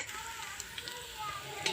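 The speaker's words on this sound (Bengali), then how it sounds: "ভালোভাবে ভাজা হয়ে গেছে," Rice, lentils and vegetables sizzle steadily in oil in a hot pan, a continuous close frying hiss with light stirring scrapes and no talk.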